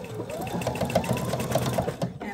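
Sewing machine stitching a stuffed fabric baby chick, a close, fast rhythmic needle chatter running steadily for a couple of seconds.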